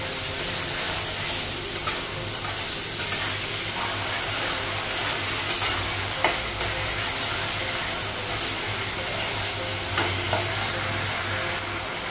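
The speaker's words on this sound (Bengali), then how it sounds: "আলু ভেজে নেবে" Potatoes frying in a pan in a Bengali home kitchen, with a constant loud sizzle and hiss, occasional stirring scrapes and faint clatter against the pan.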